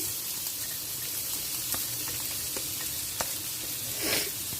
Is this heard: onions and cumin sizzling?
yes